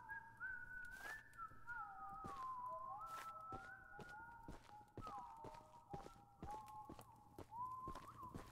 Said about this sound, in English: So much whistling. Stop whistling.